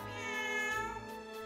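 A cat's meow is heard in a manga dub, a single drawn-out tonal cry rising and then fading, with rich harmonics and nothing else over it.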